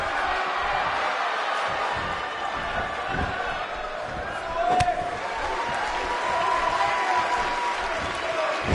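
A virtual arena crowd in El Paso roars as a steady, dense wash in a WWE 2K18 wrestling match, with commentators talking over it and one brief sharp accent midway.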